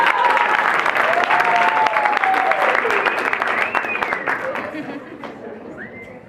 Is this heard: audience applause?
yes